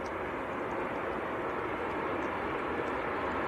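A Ryanair airliner landing on a wet runway in windy weather at Manchester Airport, its engines roaring with hard reverse thrust as a steady, dense broadband rush heard from a distance.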